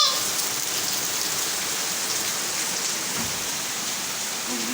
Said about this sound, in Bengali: বাইরে যে প্রচন্ড বৃষ্টি হচ্ছে